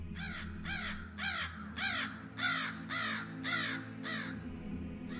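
A crow caws in a steady series of about eight harsh, descending calls, evenly spaced and fairly close, over a low background hum with no voices.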